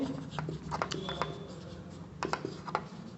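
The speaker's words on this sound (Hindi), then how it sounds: "तो बच्चों हम लिखेंगे" Pen or pencil writing by hand on paper during a Hindi-language class 10 lesson, with soft scratchy strokes and a few sharper taps, faint and close, in a quiet room.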